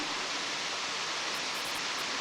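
A waterfall on Deogyusan mountain, part of a chain of falls and plunge pools, pours in a steady, dense rushing hiss from close by with no talking.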